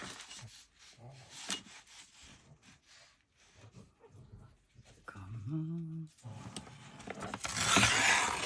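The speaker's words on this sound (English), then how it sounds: "It's not my stomach growling, it's the dogs." Dogs growling in low, rumbling bursts indoors, up close, with some rubbing and shuffling sounds and brief voice in the mix.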